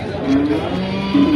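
At a weekly cattle market in Nashik, a cow lets out a drawn-out, fairly close moo against a busy background of crowd noise.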